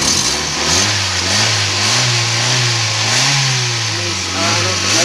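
Car engine with a spark plug misfire, caused by a faulty number 1 high tension wire, running loud and close with uneven surging revs and a rough, stumbling note.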